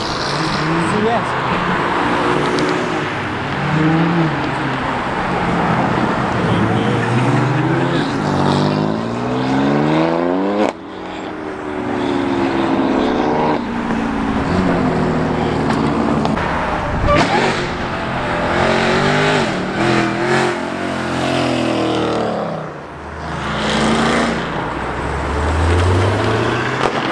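A Porsche Boxster revving hard at a car meet, loud rising and falling engine sweeps with a burnout. Voices talk and shout over the engine noise throughout.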